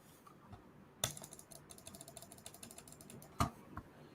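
Computer keyboard typing during a livestreamed tech chat, with quick irregular clicks close to the mic and two sharper louder key strikes standing out, no voices.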